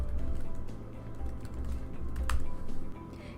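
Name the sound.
typing login credentials on a computer keyboard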